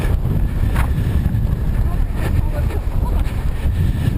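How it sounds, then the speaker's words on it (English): Stiff wind blows outdoors on a mountain trail, a constant low roar buffeting the microphone with uneven gusts. "Braving the stiff wind."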